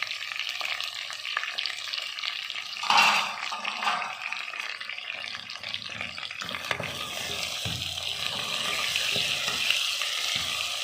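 Garlic paste sizzles in a pan for chicken shorba, a continuous crackling fry with a sharper burst partway through and light stirring noises over the steady hiss.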